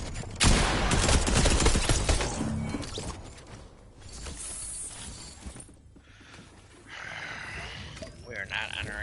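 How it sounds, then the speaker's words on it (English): Gunfire in Fortnite: dense volleys of shots and impacts crash loudly at the start, then quieter bursts and game effects follow, with some speech in places. "Somebody's shooting me."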